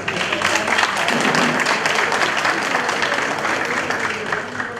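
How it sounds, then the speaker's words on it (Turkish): Steady audience applause at a regional federation meeting of associations, a dense continuous patter of many hands clapping at even loudness, with no speech over it. "Size Emel Başkanım, sizin aldığınız alkışı alamadık herhalde ama bekliyoruz yani alkışı."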